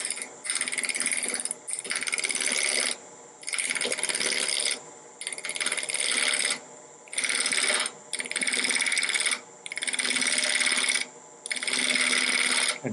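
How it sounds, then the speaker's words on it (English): A woodworking chisel cuts into wood at the top of a cut line, heard as loud, close rasping strokes repeated in a steady rhythm with short pauses between them. "And here I'm cutting on the top part of the chisel."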